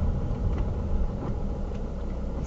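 A truck on a narrow country road gives off a low, rumbling engine drone. It is close and steady, with a heavy low-end throb and no speech.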